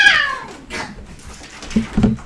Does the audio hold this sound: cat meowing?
yes